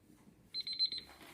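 A kitchen timer goes off during the boil of a hefeweizen home brew, a short run of four quick high-pitched beeps in a quiet room.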